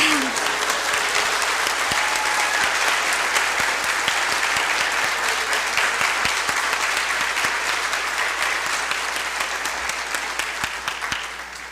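A large audience claps steadily at a university presidential inauguration ceremony, a dense, even wash of applause lasting about twelve seconds before easing slightly at the end.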